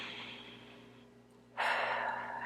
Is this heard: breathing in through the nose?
yes